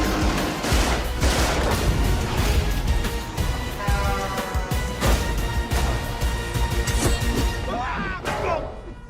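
Gunfire in the Tomb Raider video game: dense, rapid bursts and booms rattle on without pause, with voices talking faintly underneath.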